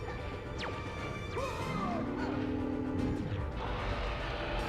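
Objects smash in the video game Spyro: A Hero's Tail, a crash with a sliding, rising tone and scattered impact noises, heard at moderate level over a constant game background.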